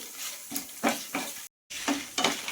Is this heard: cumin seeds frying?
yes